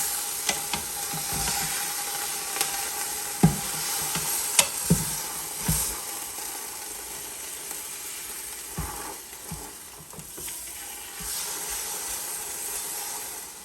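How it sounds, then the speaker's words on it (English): Corned beef brisket sizzles in a pressure cooker set to sauté, a steady hiss punctuated by several sharp clinks and knocks as the meat is turned, with no voices. "Got the pressure cooker on saute, so hopefully it'll do a little sizzling right here."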